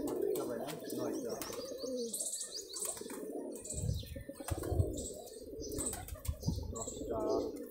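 Pigeons of a high-flying Bengali tumbler breed coo in low, rolling calls close by, mixed with chirps, wing flaps and a few scuffs. Soft speech can be heard now and then.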